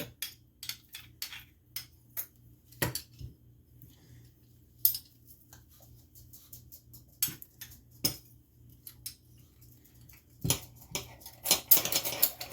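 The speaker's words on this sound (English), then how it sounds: "We're going to press the garlic down. I like to just do it on a cutting board." Fresh garlic being pressed on a cutting board at home, heard as scattered sharp metallic clicks and clinks of a press and cutlery against the board, close and irregular over near silence.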